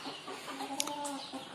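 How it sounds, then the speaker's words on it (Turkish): Hungry chickens in a coop give a few close, soft clucks and short warbling calls, with one brief sharper noise in the middle. "Tavuklarımız yolumuzu gözlüyor"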